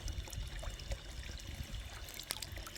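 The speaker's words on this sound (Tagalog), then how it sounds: "hindi pinapatay yung tubig" Water running steadily from an outdoor village tap in Iseltwald, Switzerland, a soft continuous trickle and splash heard close by, fairly quiet and without talking.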